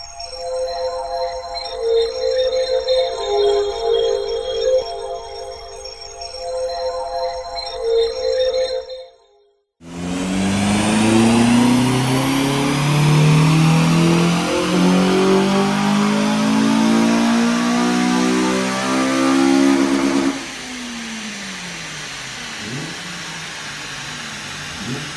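A Honda Civic FN2 Type R with mods installed, running on a dyno: steady idle hum, then after a brief gap a loud sustained rev climbing steadily in pitch for about ten seconds before dropping back to idle with a few blips.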